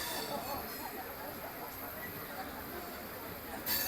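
Venad Express train running out of Shoranur, a steady broadband rumble and hiss of the moving coaches heard from inside, continuous and fairly quiet, with a brief louder swell near the end.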